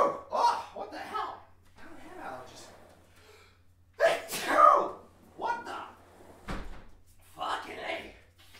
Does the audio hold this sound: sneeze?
yes